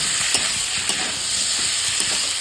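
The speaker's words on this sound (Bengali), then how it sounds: "একটা টমেটো ছোট্ট একটা টমেটো এরকম ছোটো ছোটো কিছু কিছু করে নিয়েছি এটা দিয়ে দেবো আবার একটুখানি কষিয়ে দেবো" Small pieces of chopped tomato frying in a pan for a Bengali bottle-gourd stem curry, giving a loud, continuous close-up sizzle with faint stirring scrapes underneath.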